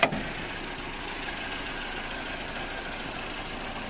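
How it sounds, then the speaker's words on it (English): An old car engine idles steadily in an open engine bay, a continuous mid-pitched hum with a faint knocking texture, holding even after a brief louder start at the beginning. "The engine is running right there."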